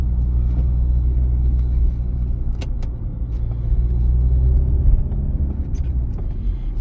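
A car engine drives steadily through a practical driving-exam route in Kryvyi Rih, shifting into third gear, with a continuous loud low rumble and slight rises in engine tone, no talk.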